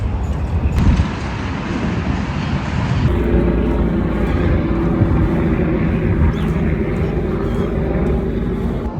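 A plane roars overhead, a loud broad rushing drone that swells and holds steady, heard up close outdoors.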